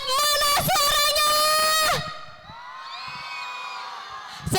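A school crowd at an orientation event with scout performances cheers and shouts. The loud, high voices start the clip under an amplified emcee, then fade into a softer, distant sustained roar.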